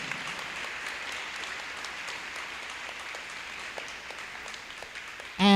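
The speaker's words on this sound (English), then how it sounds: "So if you can please give them a round of applause." Steady applause for staff at a 2021 promotion ceremony, moderate and somewhat distant, carries evenly throughout with individual claps scattered through the crowd noise.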